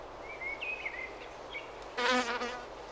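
Tiny halictus bees buzz faintly around rock rose flowers outdoors, with thin wavering whines drifting past and a brief louder buzz passing close near the end.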